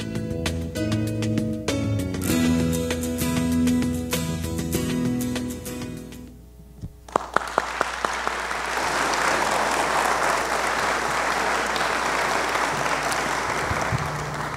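Applause from an audience at a public city accountability event: steady, dense clapping fills the second half after a stretch of music, moderately near and sustained.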